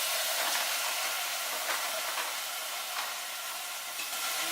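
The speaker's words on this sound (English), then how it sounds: "Got some sizzle action in there." Cherries sizzle in a saucepan, giving a steady, loud hiss with faint crackles that holds evenly throughout, with no talking.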